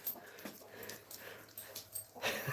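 A dog moves about a shop used for mouse hunting, sniffing and panting in short irregular bursts, close but fairly quiet, with no one talking.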